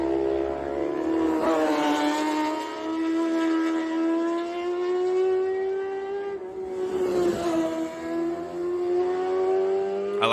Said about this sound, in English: I like the sound of the second bike better